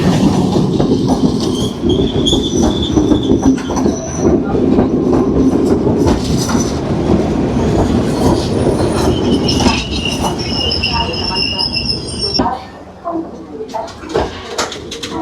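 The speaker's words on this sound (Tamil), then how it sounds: "இதில் ஒரு ட்ரெயின் ஒன்று க்ராஸ் ஆகுது பாருங்க" A Yal Devi train rolls past at a station in Sri Lanka, wheels clattering and squealing steadily, with voices talking faintly underneath before the noise eases at the end.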